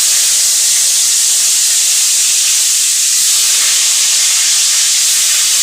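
Tomato dropped into hot mustard oil for a mustard hilsa curry hisses and sizzles loudly and evenly throughout, a steady close sputter with no talk over it.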